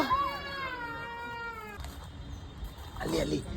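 A cat at a cat museum gives one long, drawn-out, falling meow close by, followed by a softer rustle and a brief noisy cry near the end.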